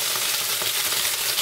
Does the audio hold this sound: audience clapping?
no